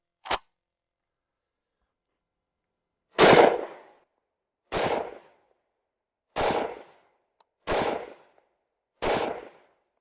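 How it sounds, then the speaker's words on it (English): Benelli ARGO semi-automatic hunting rifle fires six sharp, loud shots outdoors, one early then five spaced about one and a half seconds apart, each with a short decaying echo. "Let's fire a few more shots."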